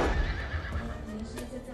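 An Arabian horse whinnies loudly at close range, a strong neigh at the start trailing into softer snorting and faint background sounds.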